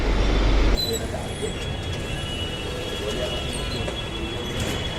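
A steady rumbling roar of a near-empty Delhi Metro train in motion, with a high whine running underneath and a sharp drop in noise at the start.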